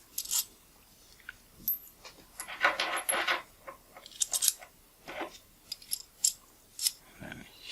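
Small metal tips being swapped on a lens spanner while servicing a Nikon Micro Nikkor 105mm f/2.8G VR lens: scattered close clicks, light metallic ticks and scraping handling noises, with a denser burst of fiddling in the middle.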